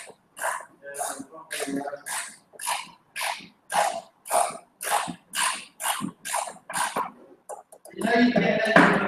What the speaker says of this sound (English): Tighten up the wheels.